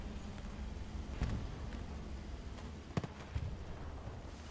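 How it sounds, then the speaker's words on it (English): A rocket hits a German P4 tank in the World War II shooter Hell Let Loose: distant muffled cracks and a couple of sharper bangs over a constant rumbling battlefield background. "Rocket sails in. Oh, big rocket."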